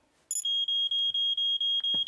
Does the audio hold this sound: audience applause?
no